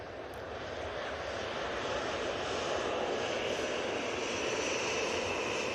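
Ryanair airliner at Manchester Airport, a steady engine roar that builds slightly and holds at moderate distance, broad and even with a faint whine, no talking over it.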